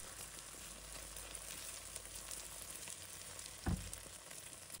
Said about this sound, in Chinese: 把搅拌好的鸡蛋液缓缓倒入锅中，瞬间蛋液接触热油，迅速膨胀凝固